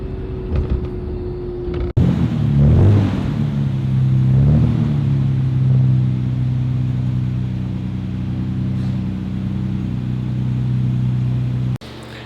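A Nissan Skyline R32 with a newly fitted ECU idles loudly and steadily up close with a deep, continuous rumble, after two sharp revs near the start, and cuts off abruptly at the end.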